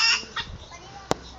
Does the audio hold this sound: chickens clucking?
yes